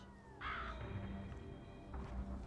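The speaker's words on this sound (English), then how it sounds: "It's a crow." A crow caws in the ruined sanctuary of Legacy of Kain: Soul Reaver, one clear harsh call followed by a fainter second, over low ambient rumble.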